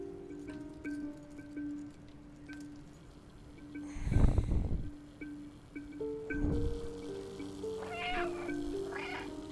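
A cat meows in a stealth video game, two loud drawn-out yowls standing out over a quiet ambient backdrop of soft tones, followed by fainter, higher mews near the end.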